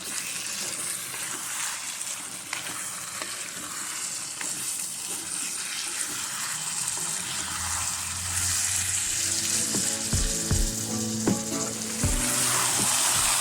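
Kerala-style pepper beef cooks in a hot pan, sizzling steadily throughout. Scraping and stirring sounds join it, and near the end come a few sharp metallic knocks of a spoon against the pan.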